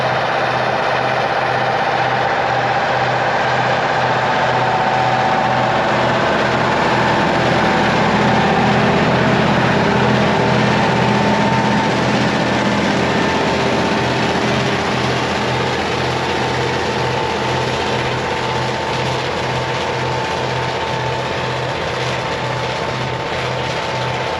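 A tractor working a field with a reversible plough gives a steady, loud engine drone with a low rhythmic throb, continuous throughout with no talking.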